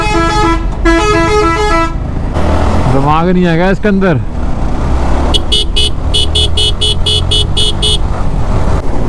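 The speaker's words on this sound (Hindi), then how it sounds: "काफ़ी देर से हॉर्न मारे जा रहा है यार" A bus horn honks repeatedly on a road behind a motorcycle: loud, insistent blasts in bursts, some long and wavering, others rapid stuttering toots, over steady traffic and engine noise, with someone speaking briefly.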